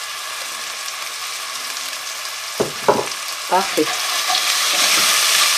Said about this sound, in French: Maintenant, moi, je peux ajouter une belle cuillerée à soupe d'huile d'olive.